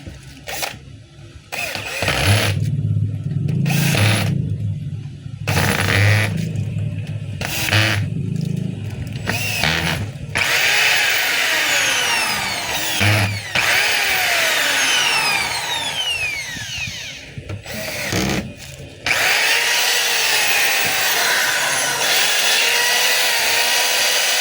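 DeWalt DWD024 1/2-inch hammer drill driving a screw: a loud motor whine in repeated bursts, stopping and starting with short pauses, then rising and falling in pitch through a long steady run, close to the listener.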